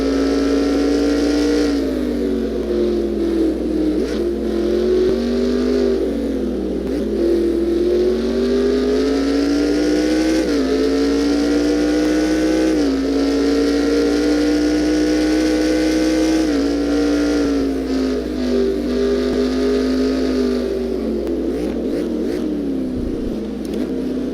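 An onboard Formula 1 car engine from an F1 video game screams continuously, loud and close, its pitch rising and falling through gear shifts with no talk.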